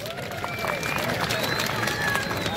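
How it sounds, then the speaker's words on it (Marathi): Crowd at a wrestling match between Sikandar Shaikh and Umesh Mathura, a steady wash of cheering and clapping mixed with babble, continuous and fairly loud throughout. "वाह करा की टाळ्या"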